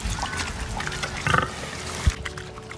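Woolly pigs at an outdoor sty on a countryside walk give low, snuffling grunts close by, with wet muddy squelching and a brief louder snort amid steady outdoor background noise.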